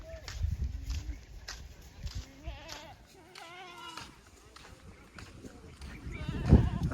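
Several goats bleat at intervals, fairly close, over a background of shuffling footsteps and a brief thump near the end.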